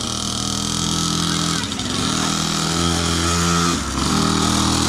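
A motorcycle engine runs steadily and loudly up close during a ride, its tone rising and dipping with throttle changes, with a brief lull near the middle.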